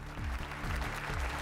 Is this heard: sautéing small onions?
no